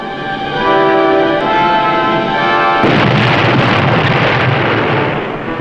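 A torpedo striking an enemy freighter in a wartime submarine attack, heard as a loud sustained roar that shifts abruptly into a broad rumbling blast, dense and heavy throughout, with no talking.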